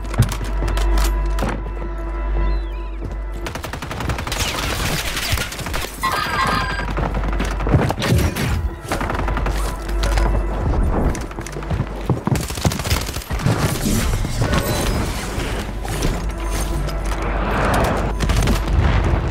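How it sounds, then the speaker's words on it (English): Rockets and explosions in a video game rebirth lobby fight, repeated heavy booms and blasts mixed with gunfire, dense and loud across the whole stretch with no speech. "Shooting rockets."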